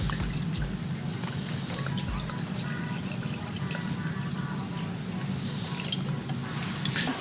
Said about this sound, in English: me and Michaela, we're just going to filter this out with the strainer and put it into another cup